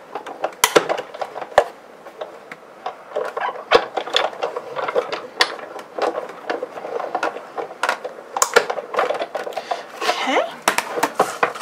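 A manual die-cutting machine presses acrylic plates and red cardstock, giving quiet, irregular clicks, taps and rattles close by.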